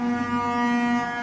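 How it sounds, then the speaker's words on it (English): The Titanic's massive ship foghorn sounds in one loud, steady, deep blast that holds an unbroken tone throughout, with no talking over it. "All of a sudden, Titanic, the ship, blows her massive foghorn."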